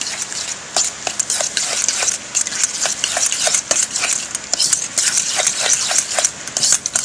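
Pie filling stirred in a bowl with a utensil, giving steady scraping and clinking strokes in a repeated rhythm, close and fairly loud with no talking.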